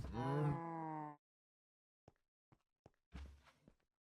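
A cow in the video game Minecraft gives one long, loud moo that fades out, followed by a few short, faint clicks and thuds.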